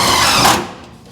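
A power drill whirs in a garage during brake line work, a short loud burst that spins down and fades within about a second.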